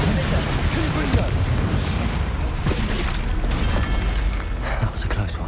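Confringo fire blasts burst during combat in the Hogwarts Legacy video game, dense thudding booms layered over constant battle noise while a player shouts spell names.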